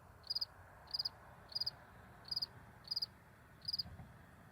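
Crisp cricket chirps at night in New Brunswick, Canada, in short regular bursts of three or four pulses, repeating about every half second over a quiet background.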